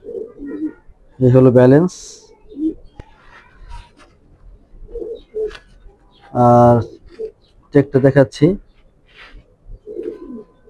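A dragon-shaped racing pigeon coos in several short, rich bursts close by, while someone talks over and between them.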